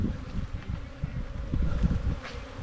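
Killer bees infesting a camper buzz steadily up close, a dense low drone with swells as individual insects pass near, no voices.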